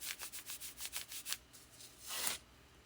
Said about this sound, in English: I'm going to just help reduce some of the stickiness by just rubbing it